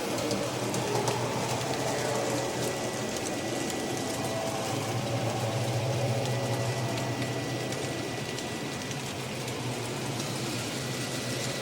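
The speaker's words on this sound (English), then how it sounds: "the coal train is coming through now" A model railway coal train runs along a layout, a steady mechanical whir and rolling rumble of small wheels and motor continuing unbroken at moderate loudness, with no talk.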